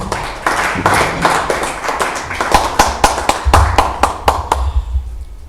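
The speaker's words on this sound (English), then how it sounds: "Give him a round of applause, please." A small audience at an open-mic business gathering gives a round of applause, distinct close handclaps in a quickening rhythm over soft thumps, fading out after about five seconds.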